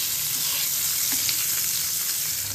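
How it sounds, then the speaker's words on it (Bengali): Fish fat frying in hot oil as it melts down in a pan, a steady close, loud sizzling hiss that holds without break throughout, with faint stirring clicks. "এই মাছের এখনো চর্বি আছে, চর্বিটাই দিয়ে দিলাম। চর্বিটা গলুক, এর থেকে আরো তেল বেরোবে।"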